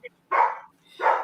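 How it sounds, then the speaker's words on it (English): Dogs bark close by, first a tiny yip and then two loud, full barks separated by a short pause. No talking. "They love to bark."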